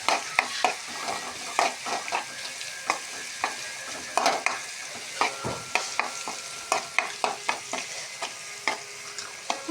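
Masala frying in oil for a fish curry is stirred steadily in a pan, a continuous sizzle with a run of rhythmic spoon scrapes and taps, close and without any voice.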